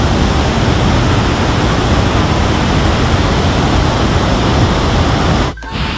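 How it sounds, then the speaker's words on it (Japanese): A small waterfall in Luang Prabang, Laos spills blue water down gentle stepped ledges, giving a loud, steady rushing wash that fills the whole scene without a break, then dips briefly near the end. "ちゃんとねこう青色のこう水が見えて緩やかにこう段差になって落ちる感じはいいですね"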